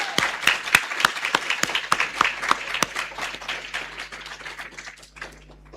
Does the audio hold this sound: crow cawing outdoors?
no